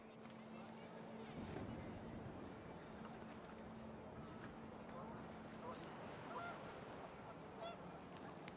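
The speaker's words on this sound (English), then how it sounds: "The wind picked up, and panicked geese appeared and quickly went." Geese honk in panic as they appear and quickly leave on a rising wind in the video game What Remains of Edith Finch, a brief flurry of calls over a steady, rumbling ambient bed with a low hum.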